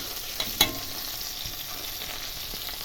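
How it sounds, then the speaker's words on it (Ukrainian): Pork ribs frying in a pan with chopped onion and carrot, a steady close sizzle with a couple of small clicks from stirring. "Нарізала вже цибульку, моркву і обсмажую реберця."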